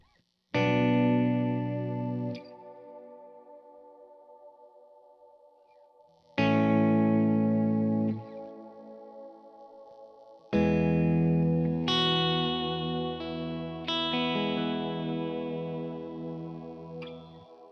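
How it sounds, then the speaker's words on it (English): Sustained electric guitar chords through a Kemper reverb called Aftermath ring out with a spacious, lingering reverb tail, played in three separate strummed phrases with notes decaying slowly. "here's natural reverb"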